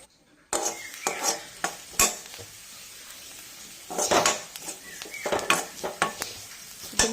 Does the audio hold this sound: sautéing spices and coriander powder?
yes